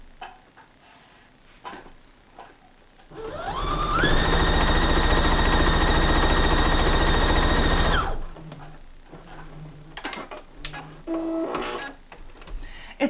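A freshly serviced sewing machine runs a test seam, whirring loudly and steadily for about four seconds after a few quiet handling clicks, then stops, followed by scattered fabric and mechanism sounds.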